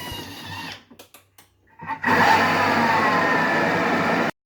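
A kitchen mixer whirs steadily at speed 9 through firm cookie dough, a loud continuous motor drone lasting a couple of seconds before stopping abruptly, preceded by brief clunks.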